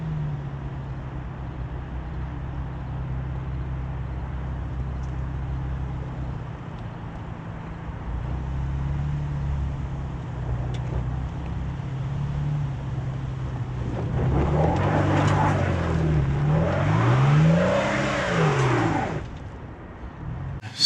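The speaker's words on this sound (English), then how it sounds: "And it is just letting me rev to the moon." A 2022 Toyota Tacoma TRD Pro crawling through deep off-road ruts, its engine droning low before climbing into loud, rising revs with wheelspin near the end.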